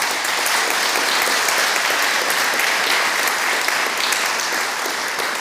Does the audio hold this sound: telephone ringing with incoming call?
no